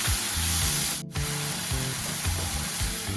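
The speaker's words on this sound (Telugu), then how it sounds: "ఒక 5 మినిట్స్ వరకు అలా కలుపుతూ వేయించుకోవాలి" Masala for a Telugu-style fish curry fries and is stirred in a pan, a loud continuous sizzle with rhythmic scraping strokes of the spoon, briefly dipping for a moment.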